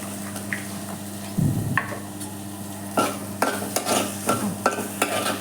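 Diced potato, carrot, green chilli, ginger and onions frying for momos, a soft sizzle under repeated spatula scrapes and taps against the pan.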